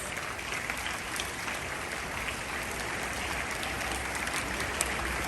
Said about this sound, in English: A big hand clap for all these 5 speakers.